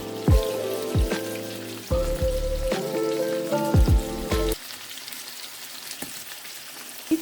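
Onions browning in a pan for spaghetti give a steady close sizzle beneath loud tonal music for the first few seconds, then the frying carries on more quietly alone.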